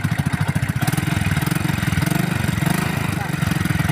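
A Yamaha 4 motorcycle engine, under repair for low charging current, runs close up with a fast, steady pulsing throb that is held revved at an even pitch.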